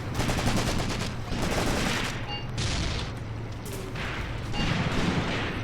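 Dense volleys of rifle and machine-gun fire from Soviet troops in Graviteam Tactics roll on in uneven bursts, with thuds between them and short pauses as the shooting comes in waves.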